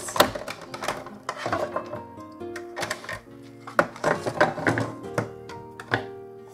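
A GoCut die-cutting and embossing machine presses a paper stack as it feeds through, giving a close run of clunks, taps and grinding creaks with background music underneath.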